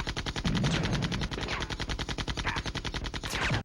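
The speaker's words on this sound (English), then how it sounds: "if we didn't jump that sniper bullet, we would have died there" Rapid, loud, continuous gunfire in the PS2 video game Army Men: Sarge's Heroes 2 on a toy shelf level, steady bursts of shots in quick succession that stop abruptly.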